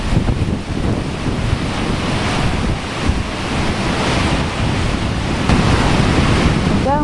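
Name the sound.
ocean waves crashing into each other in Hurricane Sandy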